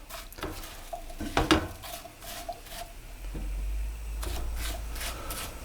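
Apple pieces sauté with soft brown sugar in a pan, heard as a quiet sizzle under clinks and scrapes of a utensil stirring against the pan, with a few louder knocks and a low rumble later on.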